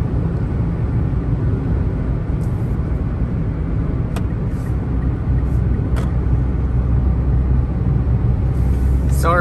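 A 2021 Mitsubishi Mirage SE pulls hard up a steep highway on-ramp, its small engine droning steadily with low rumble and road noise throughout, a few faint clicks scattered over the top.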